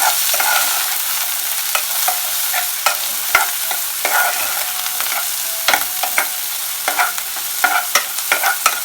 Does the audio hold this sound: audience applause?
no